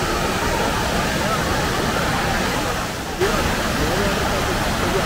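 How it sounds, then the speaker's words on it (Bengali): Water pours out at a waterfall in Netarhat, a loud, steady broadband roar that fills the whole stretch, with only a brief dip near the middle. "এখান দিয়ে জলটা বেরিয়ে যাচ্ছে।"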